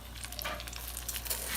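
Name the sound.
heritage pork chops sizzling in a hot pan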